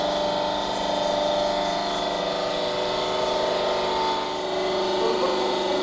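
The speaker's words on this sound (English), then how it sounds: "Now we are going to start the suction of the oil with the heaters" An oil purification unit draws oil through its suction with heaters running during a type test, giving a steady, continuous mechanical pump hum and whir with even loudness and a faint tonal whine, no voices.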